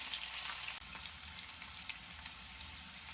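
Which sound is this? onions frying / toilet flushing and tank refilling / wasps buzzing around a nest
onions frying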